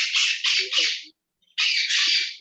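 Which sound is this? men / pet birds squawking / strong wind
pet birds squawking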